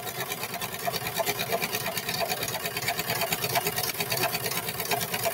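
A sewing machine runs nonstop while stitching short pants, giving a fast, even mechanical chatter up close with no pauses and no voices.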